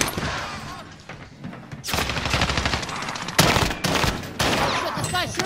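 Sustained automatic gunfire in the Call of Duty Warzone video game, loud and close, with bursts that start up and stop again. Heavy game noise sits underneath.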